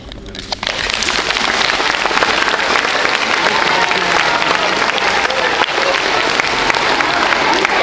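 A crowd of around 350 people in a gymnasium at a youth handball event in Chaumont bursts into loud, dense applause that starts abruptly and carries on steadily, a thick roar of clapping.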